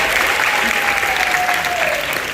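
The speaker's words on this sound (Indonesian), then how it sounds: "Tepuk tangan dulu dong buat teman-teman." A theater audience gives a dense, steady wave of applause for the cast at a press preview of the musical Keluarga Cemara. The clapping is loud and continuous, with a faint tone sliding beneath it.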